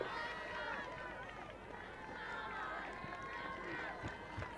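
A home crowd at an Irish field hockey match, Ireland against the Czech Republic in a Eurohockey qualifier, keeps up a steady murmur of shouts and chatter, with a commentator talking over it.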